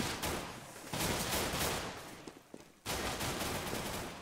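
Gunfire crackles through a shooter video game match at a LAN finals, with dense bursts of shots and a brief lull before rapid fire resumes.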